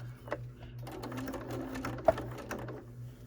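A sewing machine runs steadily while stitching a cross stitch pillow with trim and pom-pom edging, a close, continuous mechanical whir with a soft rhythmic needle clatter and one sharp click partway through, with no talking.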